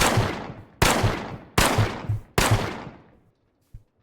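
Four loud revolver shots from the Minecraft Create: Automotives mod ring out at a steady pace, each with a sharp crack and a decaying tail, and a faint click follows; no talking.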